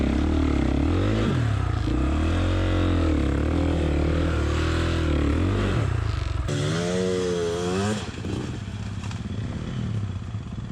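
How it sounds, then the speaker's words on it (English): A dirt bike engine runs close by on a forest trail, its pitch rising and falling as the rider revs while turning the bike around, loud and continuous throughout with no talking. "while Santiago was turning his bike around"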